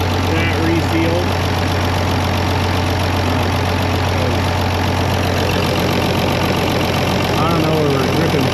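A Farmall 826 tractor engine idling with a steady low rumble and slight knocking, loud and close throughout, while someone talks over it.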